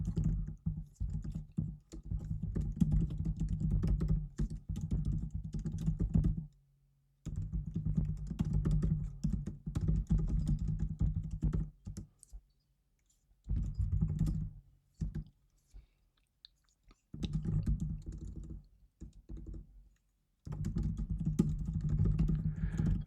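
Someone types a prompt on a computer keyboard in long bursts of rapid, close clattering keystrokes, broken by short pauses, with no talking.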